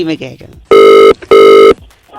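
Two long electronic phone rings, loud and close, following a brief bit of talk.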